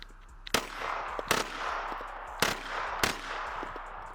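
A TX22 mini MP7 airsoft gun fires four sharp snapping shots in two spaced pairs, fairly close and crisp over a quiet background hiss, with no talking.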